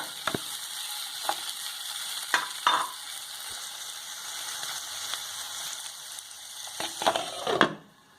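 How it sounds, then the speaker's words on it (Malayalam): Chopped tomatoes going into a frying pan for soya chilli, a steady sizzle running throughout with a few sharp scrapes and clatters of the stirring spoon, louder at the end. "അപ്പോൾ നമുക്കിനി തക്കാളി ഇട്ട് കൊടുക്കാം. തക്കാളിയും കൂടി ഇട്ട് കഴിഞ്ഞിട്ട് ഒന്ന് മൂടി വയ്ക്കാം."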